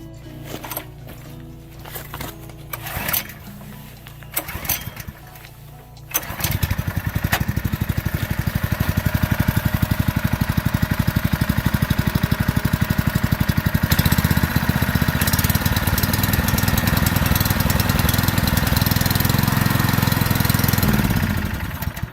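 A fuel transfer pump's small engine, being winterized with fuel stabilizer, starts after some quieter clunking and then runs loud and steady, a close, continuous mid-pitched drone that holds to the end.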